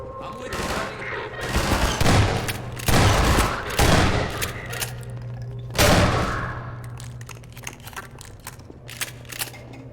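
Grenade explosions and gunfire in the video game Half-Life 2, a series of loud booming thuds and bursts spread over several seconds, with scattered shots trailing off afterward.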